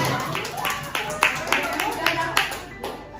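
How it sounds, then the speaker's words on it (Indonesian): Scattered hand claps ring out in a school training session, a handful of separate sharp claps spaced through the moment over a busy room background. "beri tepuk tangan yang meriah untuk kita semua"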